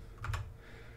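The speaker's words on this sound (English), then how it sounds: "Let's type that in manually." A value is typed on a computer keyboard during photo editing: a quick pair of close keystrokes, then a quiet room.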